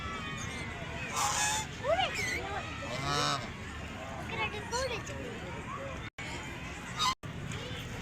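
A pair of birds honks in Daman-e-Khizar Park, Malakwal, giving several rising nasal calls at moderate distance. People talk and murmur throughout.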